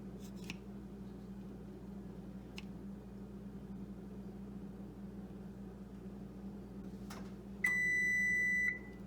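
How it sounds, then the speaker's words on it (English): A kitchen oven signaling it has finished preheating: one steady electronic beep holds for about a second, loud and clear, after quiet room hum and a few faint clicks. "Oh, the oven is done preheating."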